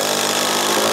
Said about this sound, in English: so far it did a really good job of driving screws